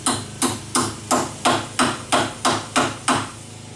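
Hammer tapping a T40 Torx bit into a strut bolt on a 2005 Chrysler Town & Country, about ten sharp metallic strikes at a steady, even rhythm, close and distinct, no talking.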